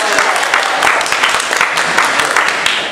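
Crowd applause at a live gathering, a dense wash of clapping that holds steady and loud for a few seconds.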